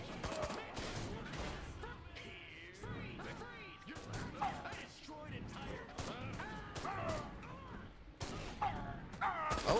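Gunfire and crashing blasts in the video game Destroy All Humans: rapid bursts of shots and heavy impacts mixed together, played under ongoing talk.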